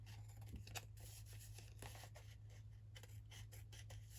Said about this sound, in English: trim it with my scissors this time.